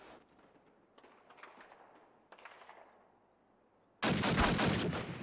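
Gunfire in Call of Duty: United Offensive, a competitive match: faint scattered shots and clatter at first, then a loud burst of rapid firing close up in the final second.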